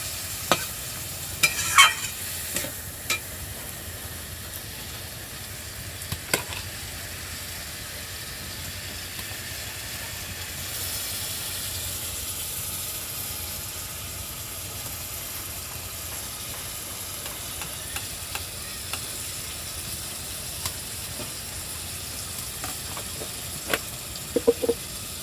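Ginger paste fries in a pan and is stirred, giving a low steady sizzle over a long stretch with occasional scraping clicks of a spoon against the pan.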